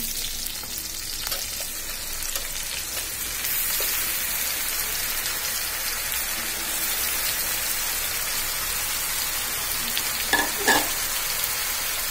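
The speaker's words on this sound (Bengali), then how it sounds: "আমি কচুরলতিগুলো দিয়ে দিব।" Taro stolons fry in oil in a pan with a dense, steady, close sizzle like rain that grows louder early on. A couple of soft clunks sound near the end.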